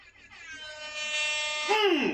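A loud, sustained air horn blast holds a steady brassy tone for about two seconds, wavering and swelling in its final moments.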